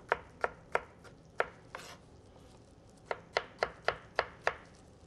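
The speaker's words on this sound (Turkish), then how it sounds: "Şöyle ufak ufak doğrayalım." A knife chops a tomato sharply on a cutting board in quick bursts of evenly spaced strikes, close and crisp, with a short pause midway.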